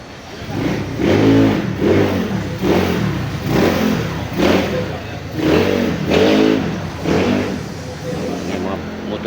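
Engines rev in repeated surges, roughly once a second, loud and close, with a throaty rising-and-falling drone.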